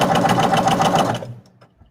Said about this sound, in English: Your sewing machine's loud.